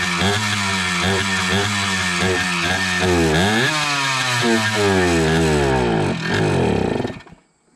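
A 1974 Yamaha MX100 motorcycle's two-stroke engine running close while being repaired, loud and raspy, revving up and down repeatedly before it cuts out at the end.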